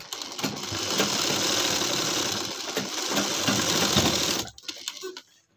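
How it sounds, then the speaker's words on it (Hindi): A sewing machine stitches elastic into a pajama waistband, running in a fast continuous rattling whirr for about four seconds before stopping, followed by a few brief handling clicks, close up. "यहाँ पर हमने एक सिलाई लगा के अपने लास्टिक को रोक लिया है"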